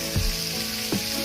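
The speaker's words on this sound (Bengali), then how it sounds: "মটরশুঁটি আর গাজর, ভালো করে ভেজে নেব।" Peas and carrots frying with turmeric and salt, a steady close sizzle broken by two soft scraping stirs.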